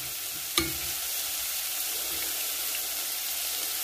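Chicken broth is stirred and dissolved in a hot pan, with a constant hissing sizzle. A sharp utensil knock comes near the start, and there is no speech.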